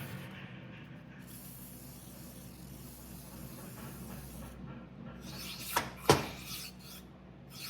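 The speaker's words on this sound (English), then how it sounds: "now we got to clean the guides out and spray it down" A soft, steady hiss of cleaner sprayed into McCormick Deering engine valve guides runs throughout, close by, with a couple of brief scraping knocks near the end.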